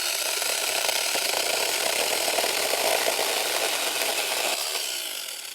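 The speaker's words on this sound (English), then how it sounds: "it has absolutely no problem ripping right through branches and logs this thick. So there you go, that's the TomyVic 6-inch mini chainsaw" A TomyVic 6-inch mini chainsaw rips through branches with a loud, steady buzzing whine and gritty cutting noise, close by, before easing off at the end.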